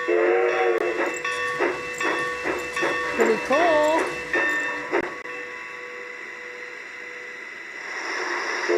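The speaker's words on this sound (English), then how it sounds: "it'll sit there and just make train noises until you go again" A model train's motor hums with rhythmic clicks and a brief whistle-like tone, then quiets; a voice speaks briefly over the mechanical noise.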